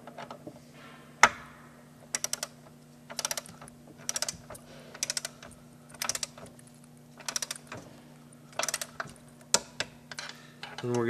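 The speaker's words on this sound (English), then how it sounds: "We're going to use a 13 millimeter wrench on the top, 12 millimeter on the bottom." Motor mount bolts on an MBx10 are worked with 13 mm and 12 mm wrenches, producing bursts of rapid metallic ratcheting clicks in short groups separated by pauses, over a faint steady hum with no talk.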